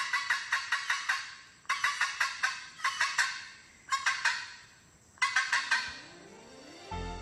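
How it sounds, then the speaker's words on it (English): Red-throated caracara, a falcon-family bird of Central America, giving loud repeated raucous cackling calls in five rapid bursts, each a quick series of harsh notes, with brief pauses between. "The red-throated caracara, belonging to the falcon family,"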